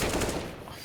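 A quick burst of gunfire in a competitive shooter video game match, a short rattle of rapid shots lasting under a second, fairly loud and close, with no talk.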